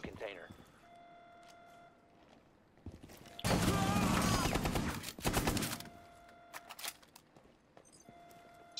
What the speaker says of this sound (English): Start firing.